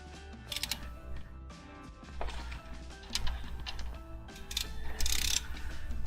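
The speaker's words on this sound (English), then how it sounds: "now I'm going to start torquing" Wrench torquing bolts on an engine part sealed with RTV, a steady run of ratcheting clicks and mechanical clatter, close and fairly loud, with no talking.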